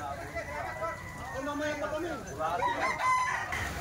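Golden Boy stag rooster crowing once in a long wavering call, close, with someone talking over it.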